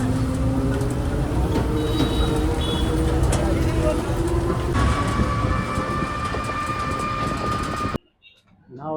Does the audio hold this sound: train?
yes